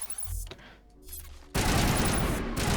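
Gunfire in the video game Mass Effect, with sniper fire from an enemy: a quiet stretch, then a sudden loud burst of shooting that continues to the end, with a voice talking faintly.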